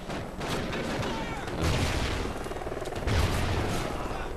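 Dense battlefield gunfire in Call of Duty Ghosts multiplayer, with rapid shots and heavier booms mixed into a loud, continuous combat roar. A voice talks underneath.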